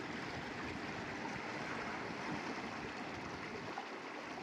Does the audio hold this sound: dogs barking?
no